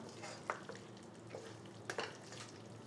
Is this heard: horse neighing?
no